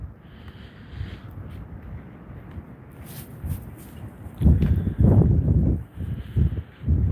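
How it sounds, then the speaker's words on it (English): Low, rumbling wind from an Ohio winter storm buffets the microphone, steady at first and then gusting louder in heavy bursts toward the end. "the wind whipping past the speaker probably makes like a staticky or a white noise sound"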